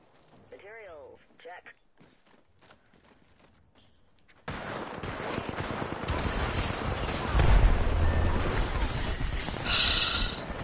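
Gunfire and explosions in the Apex Legends shooter game: quiet opening with a brief voice, then dense sustained gunfire bursts and a heavy booming blast, steady and close.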